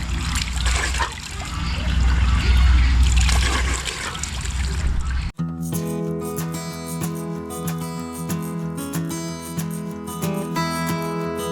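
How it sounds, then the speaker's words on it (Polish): Cold spring water trickles and splashes loudly and close for about five seconds outdoors, then gives way abruptly to a steady music bed with no water audible. "Zimna źródlana woda jest najlepsza."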